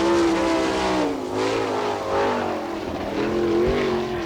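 Huntley's Peterbilt-sponsored number 7 sprint car races a lap at Attica, Ohio, its engine a steady, loud, wavering drone with rising and falling pitch as it circles the dirt track.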